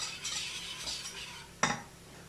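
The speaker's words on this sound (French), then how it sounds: "je remue bien" Milk being stirred into cooked butter in a pan, a few soft scraping strokes of a utensil followed by one sharper clink against the pan, close and quiet with no voices.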